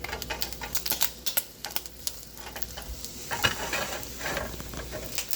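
Bacon sizzles and crackles in a pan as it turns dark and sticks, with scraping stirs and clattering spatula strokes against the metal over a steady frying hiss.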